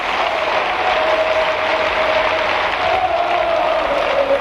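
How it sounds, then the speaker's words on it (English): Steady, dense applause and cheering from a live football crowd inside a stadium during a Brighton versus Chelsea match, loud and continuous throughout with a faint sustained whistle-like tone and no talk over it. "There's people inside a football stadium making noise."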